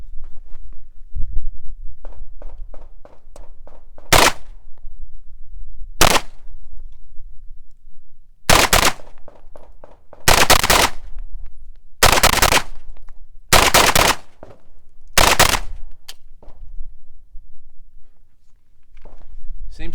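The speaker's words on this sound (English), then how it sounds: "All right, so we're going to do a test fire." Gunshots from a test fire of a gun fed from standard Glock, ProMag and PMag magazines, heard outdoors at a range as about nine sharp, loud single reports at irregular intervals, with quieter handling and shuffling noise between them.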